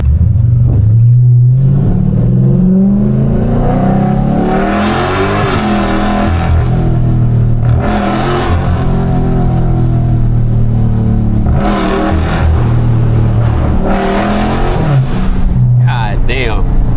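Loud Scat Pack car engine revving repeatedly, deep rumbling surges rising and falling over several seconds, very close and roaring, with some crackling bursts.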